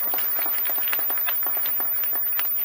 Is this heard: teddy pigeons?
no